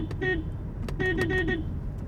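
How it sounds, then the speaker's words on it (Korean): Horn of a Volkswagen Jetta 1.4 TSI with dual mid- and high-pitched horns, giving a buzzy, motorcycle-like tone: a short blast followed by a longer one, loud and close, with no talking. "중음과 고음 이렇게 두 개의 크락션이 동시에 경적을 울리게 되는데, 이 차량 같은 경우에는 오토바이 소리가 납니다"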